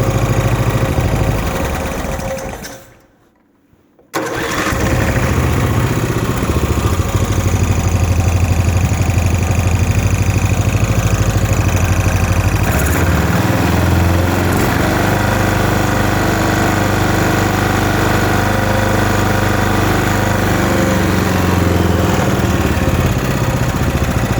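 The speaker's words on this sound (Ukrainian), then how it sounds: "Двигун працює гарно, рівненько, без жодних проблем." A Briggs & Stratton 11 hp lawn mower engine runs steadily and loudly up close, a smooth even drone with one brief dip to near silence early on before the steady running resumes, and no talking.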